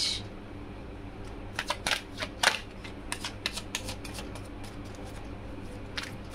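Tarot cards shuffled by hand in quick soft riffling flurries, a series of crisp papery snaps at close range over a quiet low hum.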